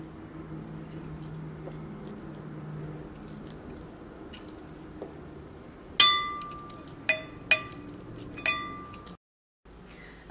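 A knife chops broccoli and its stems on a board while vegetables are prepared for soup: a few sharp, close knocks and clicks in quick succession follow a quiet stretch, then a brief silence.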